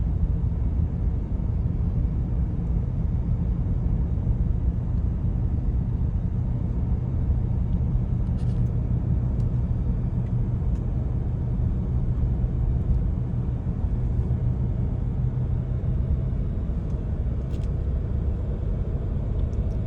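A car driving on a road, heard from inside as a steady low engine and road rumble that continues evenly throughout, with no talk.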